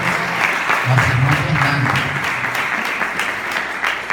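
A church congregation applauds in a dense, steady wash of clapping that runs the whole way through, with a voice speaking over it.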